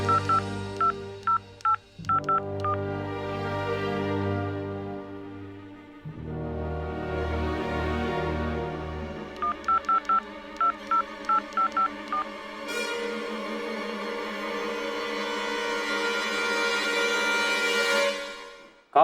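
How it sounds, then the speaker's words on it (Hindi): A telephone number is being dialed for a call to a minister during a Bhojpuri drama scene: several runs of short, evenly spaced keypad tones over background music, with no talking. "नंबर बार तू लगावत रह। जब फोन लग जाई हमरा के दे।"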